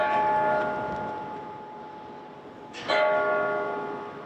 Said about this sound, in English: this bell behind me and bells all throughout the metro rang at the same time tonight.